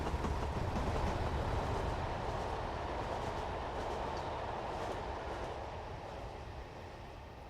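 A Class 31 locomotive in Train Simulator pulls away with a steady rumbling rail roar and faint clatter, slowly fading as it departs.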